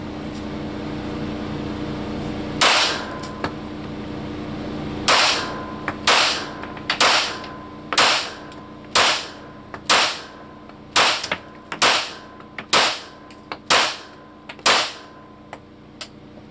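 Gunshots fired at a homemade indoor gun range, about a dozen sharp loud reports, first two spaced apart then a steady run roughly one per second, each with a short indoor echo.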